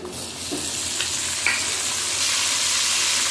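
Tomato frying in oil left over from frying a rohu fish head, a loud, continuous hiss and crackle that swells slightly toward the end, with a few faint clinks of a spoon, no voices.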